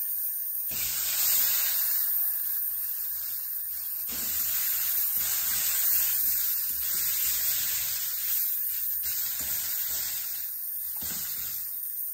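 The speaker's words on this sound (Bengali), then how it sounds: "আর মাছগুলোকে কড়া করে ভেজে নেব।" Katla fish pieces fry hard in hot oil, giving a loud, steady hiss and spitting sizzle that swells and eases over several seconds with no speech.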